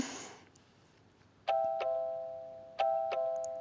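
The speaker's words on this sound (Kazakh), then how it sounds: "осындай қоңырауша бар" An electronic doorbell at a house entrance chimes twice, each ring a clear two-tone ding-dong that decays slowly in a quiet room, with no talking.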